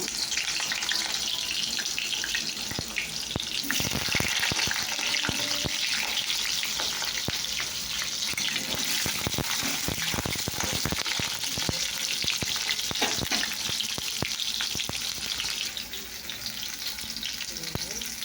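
Pointed gourd and potato pieces fry in hot oil in a wok, giving a loud, steady sizzle with scattered clinks and scrapes throughout, and no talking.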